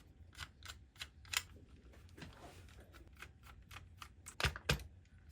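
Screws are loosened from the back housing of an Xbox controller with a small screwdriver, giving a series of close, faint ticks and clicks in irregular bursts, a few sharper clacks near the end, over quiet background.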